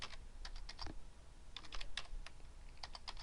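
Computer keyboard typing while filling in an Excel spreadsheet column, heard as quick clusters of sharp, close key clicks in bursts separated by short pauses, with no talk.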